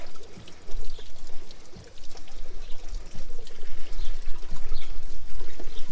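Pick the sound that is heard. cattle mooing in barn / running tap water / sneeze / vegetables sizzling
running tap water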